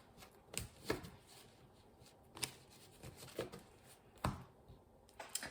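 Tarot cards are shuffled and cut by hand in a quiet room: soft riffling swishes and sharp flicks and taps come in a few separate bursts with short pauses between them.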